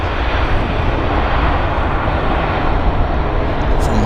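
A WestJet airliner on a wet runway roars steadily and loudly with engine noise, a continuous broadband rush that stays close and unbroken throughout.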